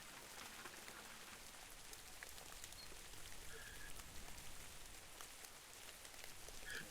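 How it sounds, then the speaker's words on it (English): Steady rain falling in a dark, calm VRChat virtual world yard, a continuous close wash of hiss and patter with scattered droplet ticks throughout, no voices. "It's currently raining, which I really like. I love the sound of rain."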